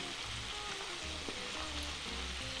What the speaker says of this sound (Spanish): Ya estoy terminando de freír albóndigas.